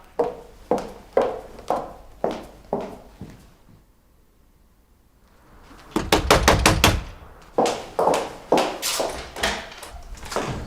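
Repeated firm knocks on a door in a Turkish TV drama scene, sounding as a steady series of sharp raps, then a short pause, then a faster louder burst of knocking followed by more evenly spaced knocks.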